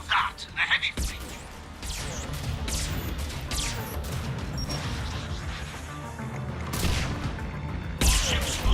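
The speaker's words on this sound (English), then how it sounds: "the Creator fleet is firing upon this vessel" Starship fleet weapons fire in the Mass Effect game: bursts of booming, crackling shots and sharp impacts in a sustained barrage, with a loud blast near the end.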